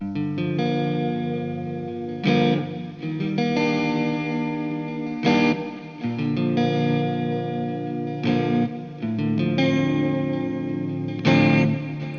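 Sustained electric guitar chords through an amp, washed in echoing delay and reverb, with a few strummed swells over about twelve seconds and no voices.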